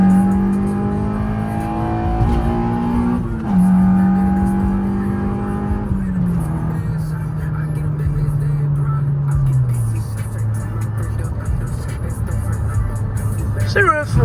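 A 9th-gen Honda Civic Si's engine drones loudly and continuously during a pull, its pitch stepping through gear changes, with a voice talking over it.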